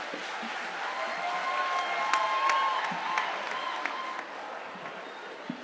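Audience applause for a government minister at a school handover ceremony for a solar-powered media laboratory, a steady, moderately distant wash of clapping with faint voices underneath.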